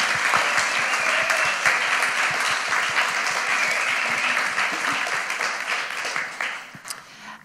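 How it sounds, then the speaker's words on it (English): An audience at a film screening at the MOCA gallery applauds steadily, a dense wash of clapping that holds for several seconds and then trails off toward the end. "Big round of applause."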